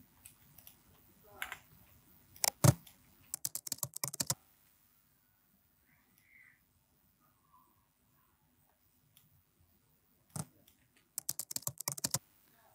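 An edited typewriter effect built in Premiere Pro: rapid bursts of crisp key clicks in quick runs, pausing for several seconds of near silence before another fast flurry of taps near the end.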